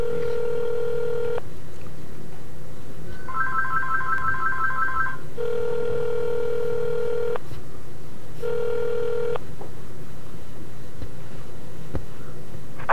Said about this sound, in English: I want to hear the ring.